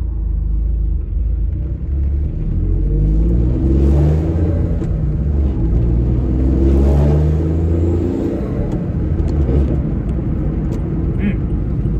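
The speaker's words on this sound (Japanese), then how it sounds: "まあ車的にはねちょっとこのマフラーのビビリ音がすごいんであれですけども" A used Honda S660 Alpha with Mugen full aero, rattling muffler and 49,200 km drives along, its engine a loud continuous low rumble that swells as it accelerates, heard from inside the cabin.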